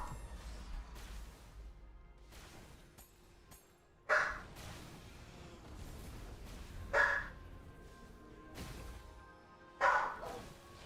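A pet dog barks three times at evenly spaced intervals, each bark short and fairly close, over a low steady background hum.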